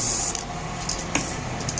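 A spray can hisses in short, repeated bursts while a fireplace is painted black, the bursts close and steady with no voices.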